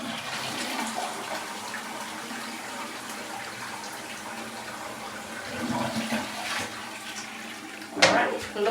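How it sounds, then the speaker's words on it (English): A household toilet flushes after cleaning, a steady rushing wash of water lasting several seconds, close by, ending with a gurgle and a brief clunk of the handle. "now let's give it a flush."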